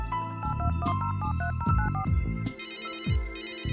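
Telephone ringing on an outgoing call in the video game Runaway: A Road Adventure, a melodic electronic ring tone repeating in short patterned bursts, loud and close, with no voices.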